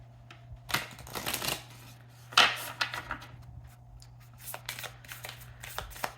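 A Moonology oracle card deck being shuffled by hand, with several bursts of papery riffling and card slaps separated by short pauses, close and fairly quiet over a steady low background hum.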